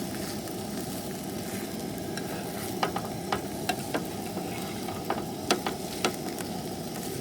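Sausages frying on a camp stove outdoors at Lost Dutchman State Park in the Superstition Mountains, a steady close sizzle with scattered sharp pops and crackles spread through the stretch, no talking.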